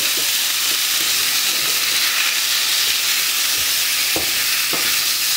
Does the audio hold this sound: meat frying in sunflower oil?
yes